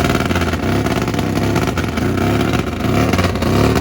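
A nitrous-fed Harley Road King drag-racing motorcycle roars loudly down the strip on a full pass, its engine note droning steadily with slight rising pitch sweeps and no voices.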